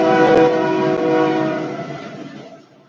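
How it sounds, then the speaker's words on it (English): A train horn sounds loud and steady with rich sustained tones, then gradually fades as the train rolls past, with no one talking over it. "Train."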